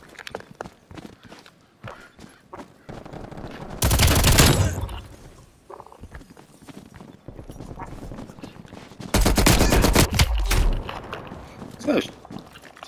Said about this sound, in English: It was a shotgun.